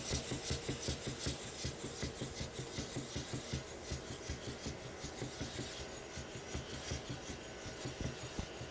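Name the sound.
razor sharpened on Hindostan natural whetstone with slurry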